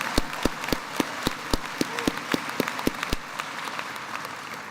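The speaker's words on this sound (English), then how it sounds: "I'm gonna give her a round of applause myself." Applause for Governor Whitmer at a spring university commencement, a soft wash of distant crowd clapping with one person's loud, regular claps close to the microphone.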